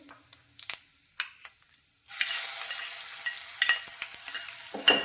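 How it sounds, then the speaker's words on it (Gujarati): Garlic-chili paste and spices, including asafoetida, are stirred in oil on a low gas flame. A few spoon taps come first, then a sudden, steady sizzle takes over, with scraping stirs on top. "અને તેને પણ તેલમાં સારી રીતે સાંકળીશું તો ધીમા ગેસની ફ્લેમ પર મસાલાને સારી રીતે સાતળી લઈશું"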